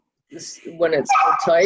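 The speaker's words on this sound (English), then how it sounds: "Sorry about the dog." A dog barks and yips during a planning board meeting, several sharp calls close to the microphone, mixed with people talking over it.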